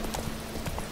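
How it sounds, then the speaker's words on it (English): Horse hooves clip-clopping through a marsh in the video game The Witcher 3: Wild Hunt, a few quick, close hoofbeats in steady rhythm over a dense, noisy background. "Riding a horse through, like, a marsh swamp thing"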